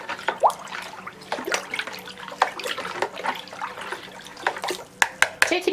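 Water and apple cider vinegar are poured into a container for pickling cucumbers in a home kitchen, giving irregular splashes and gurgles with a few sharper clinks near the end, moderately close.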